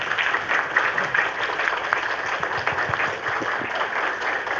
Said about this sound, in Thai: ผู้เข้าร่วมทุกท่านลุกขึ้นปรบมือ